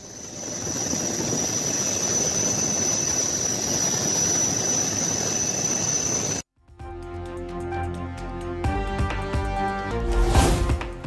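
A helicopter in a flood rescue in low-lying areas gives a loud, steady, dense rotor and engine roar for about six seconds. It cuts off abruptly into a different tonal musical sound.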